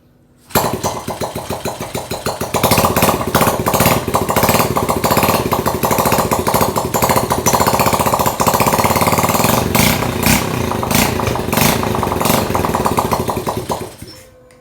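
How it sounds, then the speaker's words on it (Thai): A Honda Wave 100 motorcycle, converted from a carburettor to fuel injection, starts up indoors, then settles into a loud steady close idle with slight revving that runs for over ten seconds before shutting off. "วันนี้ผมจะมาติดเครื่อง เวฟร้อยคาบู แปลงเป็นหัวฉีด"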